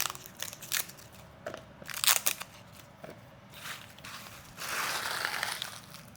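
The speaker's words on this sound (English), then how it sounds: "What I'm gonna do with these is just peel them. Take the skins off." Papery husks being peeled off tomatillos by hand, close crinkly crackles and tearing crunches in irregular bursts, ending in a longer rustling stretch, fairly quiet, no speech.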